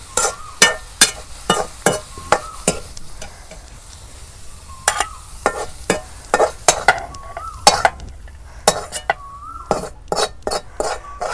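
Freshly picked greens are stirred in sizzling hot oil with onion on a clay stove, and a spoon scrapes and knocks against the pan in a quick, steady rhythm.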